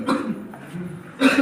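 A boy coughs as he enters a house, two short bursts near the start and end with quieter room sound between.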